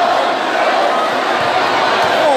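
Futsal supporters of Supermercado Tinoco cheering and shouting in an indoor court, a loud continuous crowd roar with voices mixed throughout.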